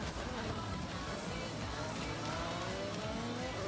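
A fast race car in Forza Horizon 6 roars at high speed, a dense continuous engine drone with faint rising tones and some tire noise, steady and fairly quiet throughout.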